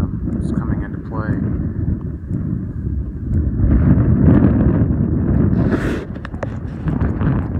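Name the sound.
wind blowing on a breezy mountain hike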